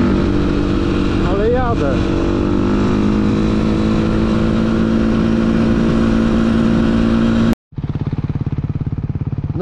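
Beta motorcycle engine running with a fault, a loud steady close idle with a brief rev, cutting out abruptly near the end before a rough restart; someone speaks briefly.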